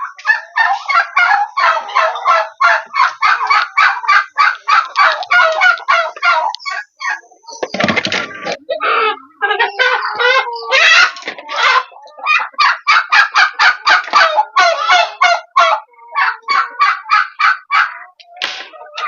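Domestic chickens cluck and squawk in rapid, continuous bursts close by, loud and alone, with one harsher, noisier outburst partway through.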